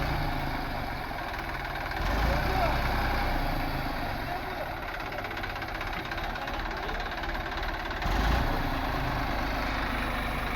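A Massey Ferguson 246 Dynatrack 46 HP four-wheel-drive tractor runs while its hydraulics lift the blade, a steady, close, low diesel drone with a slight knocking rumble that swells briefly a couple of times.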